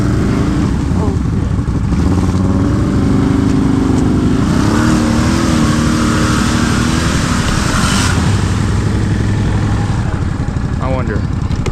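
A 2024 Yamaha Kodiak 450 ATV engine drones loud and steady as it drives through deep water, with rising and falling revs, close by and mixed with constant splashing; voices speak over it.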